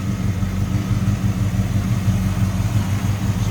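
A 1970 Oldsmobile Cutlass 350 V8 with headers idles steadily, producing a deep, continuous low rumble at close range with no voices over it.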